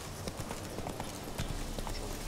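A horse's hooves clip-clop at a steady trotting rhythm in The Witcher 3, the quiet regular hoofbeats sitting under a continuous game soundscape.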